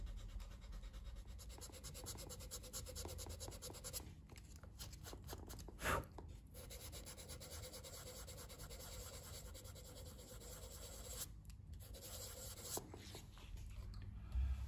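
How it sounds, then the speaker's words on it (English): A leather shoe is sanded by hand with 400-grit sandpaper: faint, continuous scratchy rubbing strokes close up, with a couple of sharper scuffs. "step two, I will remove the excess. Sandpaper 400"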